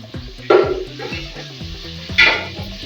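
Cumin stirred into a pot while cooking channa pulao: a spoon scrapes and clinks against the metal pot in two louder strokes over a low steady sizzle, near and with no talk.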